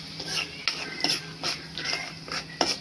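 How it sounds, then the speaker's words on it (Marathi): Chilli powder being stirred into hot oil in a cooking pot for a green moong dal curry, with a series of close metallic scrapes and clinks from a spoon, about one every half second. "हे जरा ढवळून घ्यायचे."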